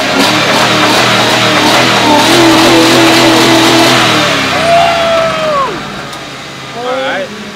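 A radio-controlled Crown Victoria model car does a test burnout, its motor whining and rising in pitch under nearby voices talking over it.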